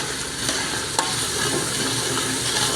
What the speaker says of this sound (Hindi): 3 मिनट और भुनाई कर सा।